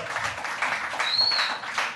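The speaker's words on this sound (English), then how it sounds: "Give them a round of applause." Crowd applause for comedians at a comedy club show, a steady wash of clapping lasting throughout, moderately loud with no talk over it.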